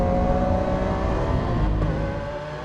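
A 2017 Lamborghini Aventador S supercar drives close by, its engine a loud, steady high-pitched roar that holds and then fades slightly.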